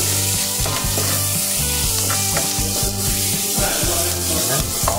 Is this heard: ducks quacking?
no